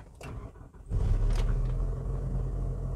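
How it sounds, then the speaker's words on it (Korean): A Hyundai EF Sonata engine cranks briefly, then catches and settles into a steady, close, low idle rumble. "자, 시동 소리 한번 들어볼게요"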